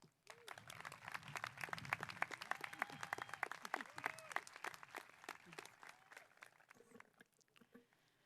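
A large audience at the 2014 Norco College commencement breaks into steady, dense applause welcoming faculty speaker Dorothy Reina, with cheers and voices mixed in, then tapering off toward the end.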